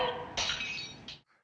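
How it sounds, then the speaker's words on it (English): Glass shatters in a film scene, a bright crash followed by a second burst of breaking shards and a few tinkling pieces settling into silence. "And there's a scream and broken glass."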